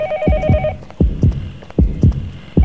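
A public telephone in the horror game Yomawari: Night Alone rings with a brief electronic trill at the start, then gives way to heavy, regular heartbeat thumps pulsing in pairs.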